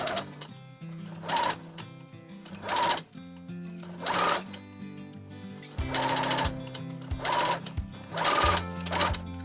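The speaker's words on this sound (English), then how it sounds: "With the seams facing towards the lower cup, top stitch 4 mm from the seam onto the lower cup." A sewing machine top stitches the seams of a dress's cups in several short bursts separated by pauses, with steady background music running beneath.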